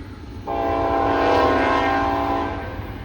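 A Norfolk Southern freight train, NS 278, approaches with a loud sustained horn blast of about two seconds over a low rumble of rolling cars, the horn rising and then fading.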